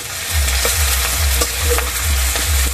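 Chopped green chili, ginger and onion are stir-fried in a pan for chicken momo filling, giving a steady close sizzle with repeated scraping stir strokes and no talking.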